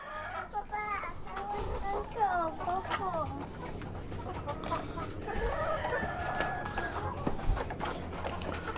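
Pet chickens cluck and squawk while being fed, a busy flock of close, repeated calls over a rustle of movement, with people talking in between.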